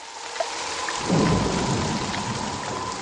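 Steady, hissing rain pours down while a deep rumble of thunder rolls in and lingers beneath it.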